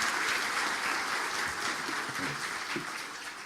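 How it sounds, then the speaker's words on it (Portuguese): Audience applause at a climate change seminar as the guest lecturer is introduced, a dense, sustained clapping from a sizable seated crowd, steady and fairly loud before gradually tapering off. "Pedimos uma salva de palmas ao senhor palestrante, Luiz Carlos Baldissero Molion."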